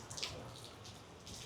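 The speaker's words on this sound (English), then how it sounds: "the rain came down" Steady rain patters down at Patong Beach, Thailand, in the evening with a broad hiss, fairly soft and continuous, with a few brighter splashes near the start.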